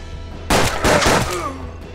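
Gunfire in the turn-based western game Hard West: a loud close burst of two or three rapid shots followed by a short ringing tail over steady background music.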